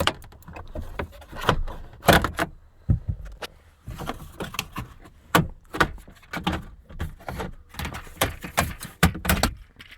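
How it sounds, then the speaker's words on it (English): A sliding door trim panel on a 2001–2007 Dodge Grand Caravan is pried loose and pulled off, giving a run of sharp plastic snaps, clip pops and knocks in irregular bursts with quieter handling rustle between them. "pretty much you'll have to just pry it out and pull it off"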